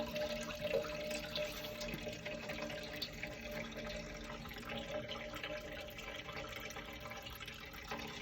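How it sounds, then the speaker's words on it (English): Liquid draining steadily out of a home brewing vessel, a continuous rushing, splashing flow with no breaks over several seconds. "I'm just going to drain it all out, give it a rinse out"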